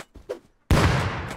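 Grenade explosion in the modded survival game Rust, a sudden loud blast with a sustained rumbling tail after a few faint knocks, no talking over it.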